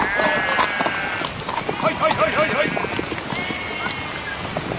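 Several sheep bleat in a rural lane during a spot of rain, their wavering calls rising and overlapping at mid distance while people talk over them throughout.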